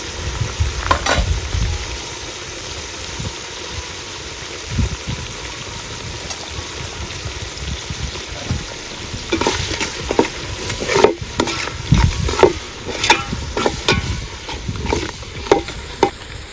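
Country chicken sizzles and fries in a pan with tomato while being stirred. A steady frying hiss continues throughout, and scraping stirs grow busier and more frequent toward the end.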